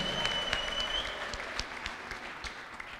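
A church congregation claps in praise of Jesus, a fairly faint patter of applause with scattered sharper claps and a thin high ululating tone early on, fading slightly over a few seconds.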